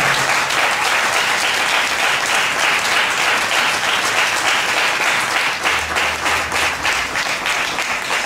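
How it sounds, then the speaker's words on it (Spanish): A church congregation applauds God in a sustained, dense wave of clapping from a large crowd, loud and steady for several seconds with no talking over it. "Esa es tu mejor ofrenda, el aplauso que tienes para Él."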